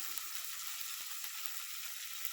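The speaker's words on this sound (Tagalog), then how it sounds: "Ilagay na rin pati natin yung kamatis." Chopped tomatoes go into a pan of sautéing garlic and onion for ginisang monggo, producing a steady, close sizzle of frying with a few sharp clicks of a utensil.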